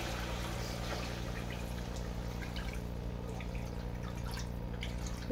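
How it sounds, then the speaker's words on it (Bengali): Water is poured a little at a time into fish curry frying in a pan, producing a soft, close trickle and drip over a low steady hum, with scattered faint splashes and no talking. "চারিদিকটা কষানো হয়ে যাওয়ার পরে আমি জলটা অল্প করে স্বাদ মতন জল দিয়ে দেবো"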